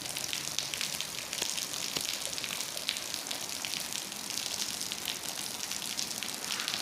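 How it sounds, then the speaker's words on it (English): Constant rainfall hisses evenly, with scattered drips tapping now and then against a surface. "Let you guys hear the rain."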